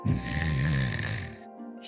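The wolf Shiranui snores in the video game Okami, one long, rasping, close snore that fades out.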